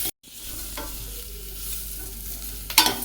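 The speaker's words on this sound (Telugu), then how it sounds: "Onion light golden brown colour వచ్చేంత వరకు ఫ్రై చేసుకోవాలండి." Onions frying in a pan, a steady close sizzle with stirring scrapes and a sharp clatter near the end, no voices.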